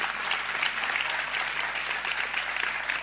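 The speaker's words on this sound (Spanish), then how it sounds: "con el aplauso, por supuesto, de nuestro público a los comparecientes" An audience applauds the panel speakers at an Internet Day 2012 event in Granada, a steady dense clapping that fills the whole stretch at even strength without pause.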